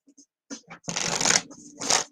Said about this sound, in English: Matter of fact, Helen, you tell me when I've shuffled good enough.